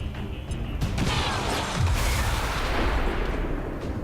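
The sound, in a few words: car exploding in video game XCOM 2 Long War 2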